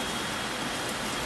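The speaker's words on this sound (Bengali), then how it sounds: "বৃষ্টি মানে পুরা দমে চলতেছে" Heavy rain pours down steadily after a spell of hot weather, a dense, continuous hiss of drops on surfaces with no pauses and no voices.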